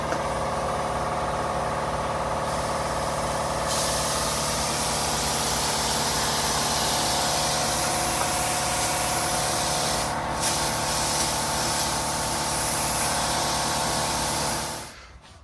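Spray gun painting a 1968 Pontiac Firebird during a classic car restoration, a continuous loud hissing spray lasting about fourteen seconds with a steady mechanical hum beneath, then cutting off abruptly.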